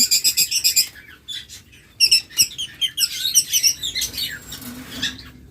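Caged pet lovebirds, cockatiels and budgerigars chirp in quick bursts of sharp, high tweets, close and fairly clear, with brief gaps between flurries.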